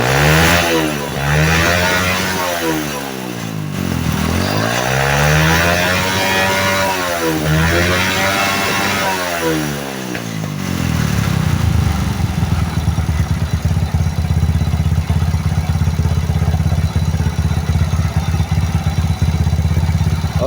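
A motorcycle engine revs hard at high throttle three times in rising and falling sweeps, loud and close, then holds a steady fast idle with a ticking clatter for the rest of the clip.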